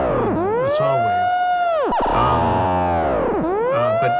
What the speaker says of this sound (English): it's just one LFO going into the mats, and all the sound and other modulations happening through the mats